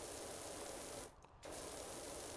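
A pressure washer sprays in PowerWash Simulator, a loud continuous hissing jet that cuts out for a split second before resuming, with no talking.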